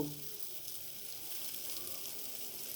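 Chilli chicken sausage frying in a pan gives a faint, even sizzle that hisses steadily throughout, with no talking.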